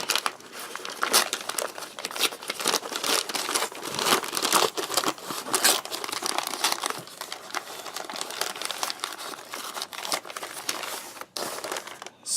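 Foil wrapper from a Canadian hamburger menu meal being handled up close: continuous crisp crinkling and crumpling in irregular bursts, loud and busy for the whole stretch with no voices.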